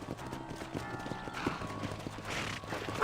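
Horse hooves clip-clop steadily in Red Dead Redemption, a brisk, even rhythm of close hoofbeats over a soft ambient game soundscape.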